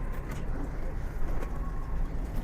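Pigeons coo in a loft, soft low murmuring calls under a constant rumbling background noise, with no clear talk.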